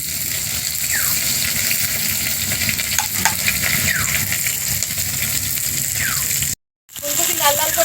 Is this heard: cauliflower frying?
yes